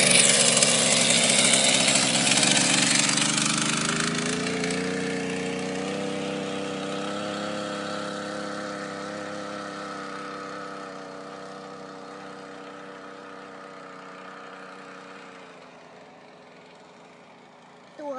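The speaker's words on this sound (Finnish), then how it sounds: "Kokeillaan lähteekö käyntiin ja tehdään ensimmäinen testiajo." A small moped engine fires up with a loud, buzzy start, then settles into a steady two-stroke drone that slowly fades as the moped rides away on a test run, and a brief sound returns at the end.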